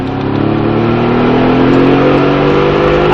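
A car engine pulls hard and loud on a race track at Speed Vegas, a steady rising drone with strong harmonic tones sustained throughout, heard from inside the car.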